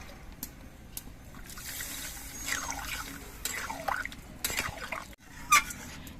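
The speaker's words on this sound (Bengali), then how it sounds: "এবার এর মধ্যে আমি ঝোল দিয়ে দিচ্ছি" Broth poured into spices frying in a pan, a soft intermittent splashing and trickling with faint sizzle, close and fairly quiet.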